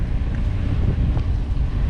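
Strong wind buffets the microphone throughout a bike ride along a trail in the Lower Florida Keys, a loud continuous low rumble with no voices.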